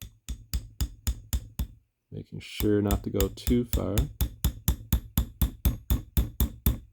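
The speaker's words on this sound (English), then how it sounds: "I'm going to take the hammer and gently tap the feed back in" A hammer gently taps a fountain pen feed back into a vintage Waterman pen, giving a steady series of sharp, close metallic clicks that continue on both sides of a brief stretch of talking.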